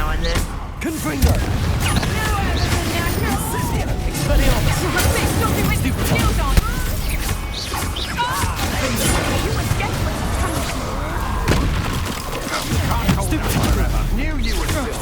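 Spell blasts from Confringo and Expulsor burst repeatedly in a Hogwarts Legacy duel, loud crashing booms and impacts packed densely throughout, with a voice shouting spell names over the din.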